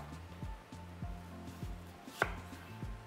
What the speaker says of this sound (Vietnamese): các cụ mợ cũng thái hạt lựu cho cháu 1cm nhé